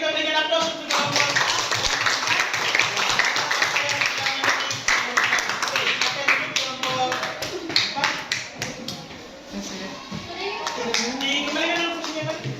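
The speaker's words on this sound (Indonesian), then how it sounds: "kalau sudah kita berikan aplaus untuk kelompok" A classroom audience claps for a student group after a discussion, a dense patter of many hands lasting several seconds while voices chatter through it.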